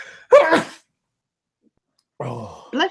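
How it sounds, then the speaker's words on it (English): A single sharp sneeze close by, followed after a pause by a short bit of speech. "I've had so many sneezes lately."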